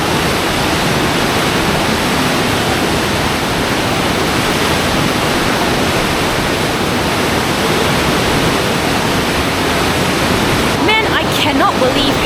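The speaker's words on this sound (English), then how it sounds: "I cannot believe how much water is actually running downstream." A strongly flowing river at Dujiangyan, China, gushing downstream at night as a loud, steady broadband roar throughout, with a brief higher splashing flutter near the end.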